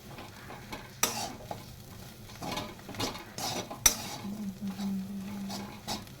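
A spoon stirs dry fenugreek pithla made with gram flour in a hot pan, producing scraping strokes and sharp metallic clinks against the pan over a soft sizzle, close and unhurried.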